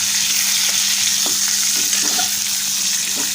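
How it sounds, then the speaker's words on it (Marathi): Eggplant pieces frying in plenty of hot oil for a spicy Maharashtrian dish give off a steady close sizzle, with a few soft stirring scrapes and no talking. "थोडीशी वांगी आधी भाजून घेऊया आणि मग मसाला टाकूया त्याच्यात."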